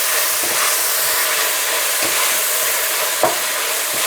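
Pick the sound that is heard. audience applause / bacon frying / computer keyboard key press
bacon frying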